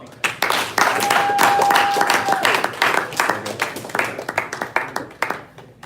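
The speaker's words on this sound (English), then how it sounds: "Round of applause for Mr." Applause after a speaker is thanked at a 2019 PR program meeting, dense clapping from a room of people that swells early and then thins into scattered claps, with a sustained tone and some talk underneath.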